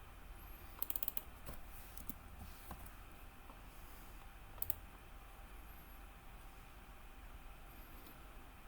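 Computer mouse clicks come in a few sharp, faint bursts, including a quick double click, with a low room hum filling the gaps.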